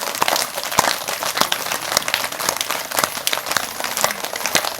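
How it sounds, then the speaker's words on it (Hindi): An audience at a yoga and exercise gathering claps hands loudly and continuously in rough unison, a dense crackle of sharp overlapping claps. "जोर से बजाते रहिए ताली"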